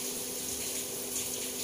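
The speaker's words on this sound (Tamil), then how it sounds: "இதை நல்லா ஒரு 2 to 3 டைம்ஸ் ஃபஸ்ட்டே நல்லா வாஷ் அவுட் பண்ணிவிட்டு" Running water fills and rinses rice in a bowl, a steady close splashing wash with a faint tonal hum underneath, continuous throughout and no voices.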